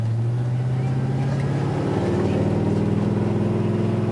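A 2004 Chevrolet Silverado LT 2500 4x4 pickup accelerates across a truck parking lot, its engine drone holding steady and then rising in pitch as it winds up, heard from inside the cab.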